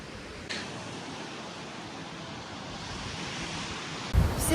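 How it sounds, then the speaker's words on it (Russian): Wind gusting over breaking waves on an Odessa beach, a steady, close wash of broadband rumble and surf with brief buffeting thumps against the microphone near the start and end. "на пляже немного ветрено"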